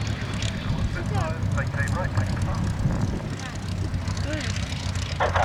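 The Shuttleworth Spitfire lands after a display flown alongside a Camel at an airshow, its propeller engine droning steadily and close, with a commentator's voice talking over it.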